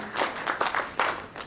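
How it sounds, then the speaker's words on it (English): Audience applause at CASA's Platinum Jubilee celebration in Kolkata, a short burst of scattered clapping from the crowd with a few louder swells, moderately close and heard alone. "Definitely CASA needs a big applaud and hand from all of you for doing their work for the last 25 years"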